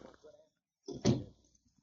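A door closes in an old-time detective radio drama, a short muffled thump with a brief rattle following some quiet, distant talk.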